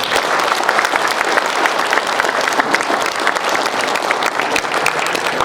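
A lecture audience gives warm, sustained applause for two forum lecturers, a dense, even wash of clapping from a large crowd throughout.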